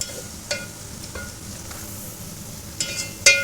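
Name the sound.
fried karela being added into a cooking pot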